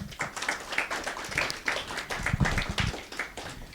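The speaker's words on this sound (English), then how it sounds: "can we thank them with a round of applause?" An audience at a panel event on peace operations in Africa applauds, uneven clapping from a modest crowd with some close, distinct hand claps throughout.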